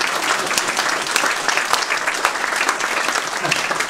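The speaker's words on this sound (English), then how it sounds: "There you go, round of applause again." A steady round of applause from a live stand-up comedy audience, dense, even clapping that fills the room without a break.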